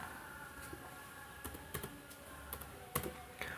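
Keys clacking on a computer keyboard as a one-time password is entered, a handful of sharp, irregular taps and clicks heard close up over faint room hum, with no talking.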